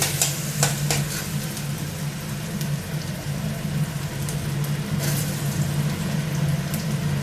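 Crushed ginger and garlic fry in a pan for a katla fish curry, giving a steady, close, continuous sizzle with occasional stirring clicks and no talking.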